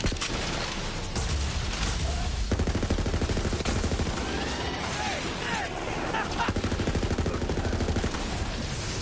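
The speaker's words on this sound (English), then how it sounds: "Why am I shooting the guy that could help me damage this one?" Rapid automatic gunfire in the Borderlands 3 video game, dense rattling bursts that are loud and sustained almost throughout, layered with other game effects.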